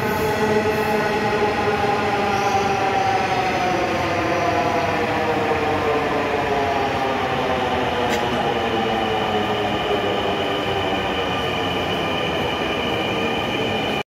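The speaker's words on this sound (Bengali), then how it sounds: "ইতিমধ্যেই আমাদের ট্রেনটি চলে এসেছে।" A metro train arriving at Uttara Diabari station in Dhaka, with a loud steady electric whine and rising and falling tonal hum, wheel squeal and rolling rumble close by, continuous throughout with no talk.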